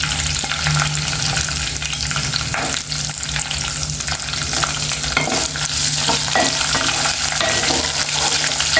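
Green chillies, chana dal and peanuts fry in oil in a pan for a ridge gourd chutney. A steady, close sizzle runs throughout, with the scrape and clatter of stirring.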